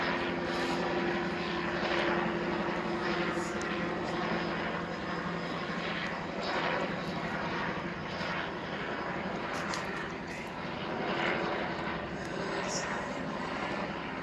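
A drone flying overhead during a January 2021 outdoor gathering, a steady engine drone that holds throughout with a continuous tonal hum and background noise, with faint voices underneath.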